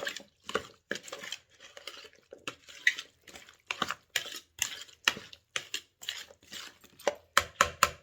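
Boiled potatoes being mixed in a bowl for kala chana chaat, a run of close, rhythmic soft thuds and clinks of a spoon, one after another.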